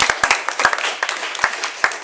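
People at a Cayce city council meeting clap in a steady round of applause, fairly close and loud, with individual hand claps standing out through the crowd.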